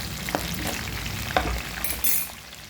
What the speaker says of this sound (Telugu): వేగిన తర్వాత ఉల్లిపాయ పచ్చిమిర్చి వేయండి